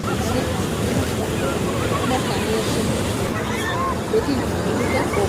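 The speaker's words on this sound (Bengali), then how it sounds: "এই ঝর্ণার স্রোতের শব্দ এতটাই বেশি" The roaring water of Niagara Falls makes a dense, steady rushing roar that fills the scene, with a faint murmur of crowd voices and some wind buffeting underneath.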